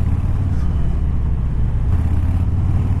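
A 2018 Harley-Davidson Fat Boy 114 accelerates past traffic on an open road, giving a deep, continuous, rumbling engine drone mixed with heavy wind noise.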